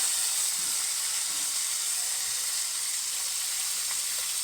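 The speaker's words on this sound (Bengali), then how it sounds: "পেঁয়াজ, টমেটো, গোটা কাঁচা লঙ্কা একসঙ্গে কড়াইতে দিয়ে দিই।" Onion, tomato and whole green chillies sizzle in hot oil in a wok, making a steady, bright, even hiss that runs unbroken and fairly close with no voices.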